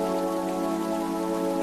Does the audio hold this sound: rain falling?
yes